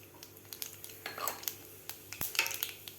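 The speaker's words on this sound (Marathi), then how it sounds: "त्यानंतर घालायचे आपल्याला जिरे" Mustard seeds and cumin dropped into hot oil in a pan crackle and sizzle softly, with light scattered pops and a few utensil clinks against the pan, fairly quiet and close.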